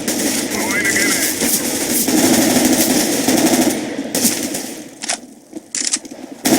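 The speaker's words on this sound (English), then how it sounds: "Throwing a grenade." Rapid, clattering gunfire in the shooter game CS:GO. It makes a dense rattle of shots through most of the clip, then thins into a few sharp isolated bangs near the end.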